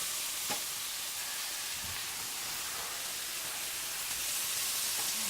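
Pepperoni chicken browns in a skillet with a steady, soft broadband sizzle that holds evenly throughout, joined by a few faint stirring or scraping touches, with no voices.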